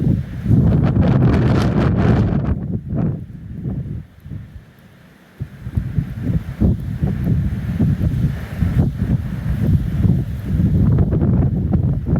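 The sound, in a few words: ocean and wind on a beach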